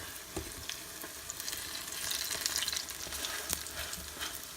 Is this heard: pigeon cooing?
no